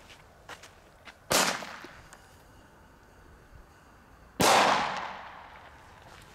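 An Xplode double-bang firecracker goes off twice, each a sharp loud crack with a short decaying tail, about three seconds apart, outdoors with no voices.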